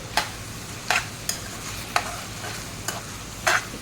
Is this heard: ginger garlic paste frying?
yes